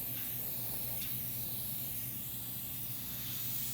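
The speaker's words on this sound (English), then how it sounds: "Get more liquid flow from the sprayer" A facial sprayer mists liquid over skin during a facial treatment rinsing step, giving a steady, close, continuous hiss that holds evenly throughout with no talk.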